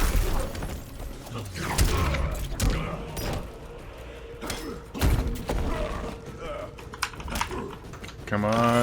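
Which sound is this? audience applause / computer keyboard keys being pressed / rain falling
computer keyboard keys being pressed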